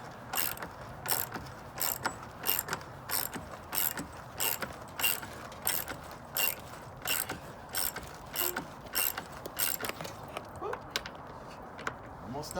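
A hand ratchet drives a lag bolt into a wooden wall stud behind stucco for a covered deck ledger, giving steady bursts of sharp clicking strokes in a regular rhythm, close and clear over a quiet background.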